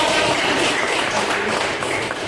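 Steady, dense clapping from an audience of teachers at an Indonesian school welcoming event, a continuous wash of many hands throughout with no pauses.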